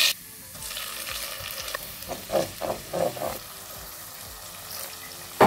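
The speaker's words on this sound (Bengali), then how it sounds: "রসুন আর পেঁয়াজটা ব্রাউন কালার করে ভেজে দিয়ে নিলাম" Garlic and onion fry in oil in a home kitchen pot, a steady sizzle broken by several bursts of stirring and scraping in the middle, with a louder clatter at the very end.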